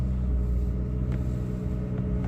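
A car engine runs with a steady low idle rumble throughout, close and fairly quiet, with a couple of faint clicks on top; the start itself is not clearly audible.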